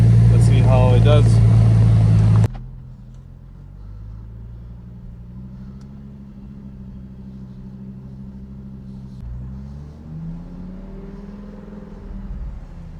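A Lamborghini Huracan drives back and forth after a rebuild. After a loud opening burst of sound, a low engine rumble rises and falls in pitch as the car moves at a moderate distance.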